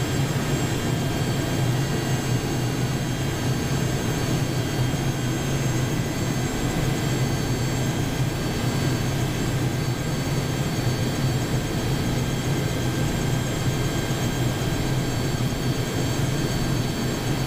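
Engines and main rotor of a Mi-26 heavy-lift helicopter idling, a steady loud turbine roar with a low rumbling throb and a constant high whine, unbroken and close for the whole stretch.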